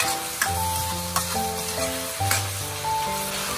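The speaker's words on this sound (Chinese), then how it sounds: "青红辣椒加进来，快速的给它翻匀，让青红辣椒断生" Green and red chili peppers stir-fried with diced potato and minced meat in a wok, giving a steady close sizzle broken by periodic scraping and tossing strokes from a spatula.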